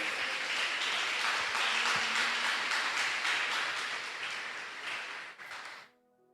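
A church congregation applauds during a Portuguese-language sermon, a steady wash of clapping that holds for about five seconds, then thins and stops abruptly into near silence.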